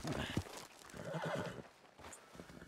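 A horse whinnies and snorts up close in Red Dead Redemption 2, followed by a few hoof clip-clops, all with a slightly synthetic, game-like quality.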